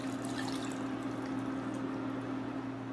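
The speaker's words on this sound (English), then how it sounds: "now we're going to pour in the vegetable broth" Vegetable broth being poured into a pot of black bean soup, a continuous close-up liquid stream with a steady pitched tone underneath, loud and without talk.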